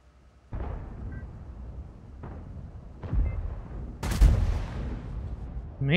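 Tank cannon shots in a heavy tank video game: a few separate heavy booms spaced about a second apart, the last one the loudest with a long rumbling tail, over a quiet engine hum.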